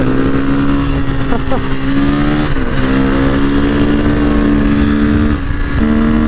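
A motorcycle engine drones steadily at close range, its pitch dipping and rising slightly as the bike rides along, with wind noise over it.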